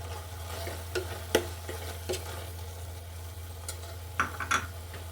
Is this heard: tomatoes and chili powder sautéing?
yes